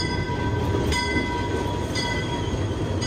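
A passenger train waiting at a station in Peru as travelers board: a steady rumbling hum with faint metallic clanks and a few sharp squeals from the cars.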